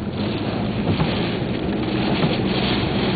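Strong side wind gusts during a Florida thunderstorm, a steady, loud, broadband rush that buffets the microphone for a few seconds without any speech.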